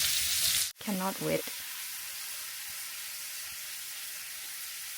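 Shrimp sizzling in a hot frying pan at a camping cookout, a steady close hiss of frying that carries on throughout, with a short spoken comment near the start.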